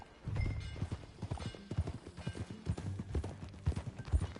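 Horse hooves clip-clop at a steady riding gait in the video game Red Dead Redemption II, a close, rhythmic run of thuds that continues through the whole stretch with no one talking.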